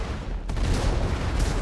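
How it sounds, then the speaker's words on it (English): Dense, rumbling explosions and gunfire roar continuously in a video game, loud and close, with a heavy low-end boom throughout and no talking. "Oh my god, the explosions."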